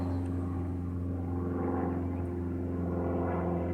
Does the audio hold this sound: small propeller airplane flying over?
yes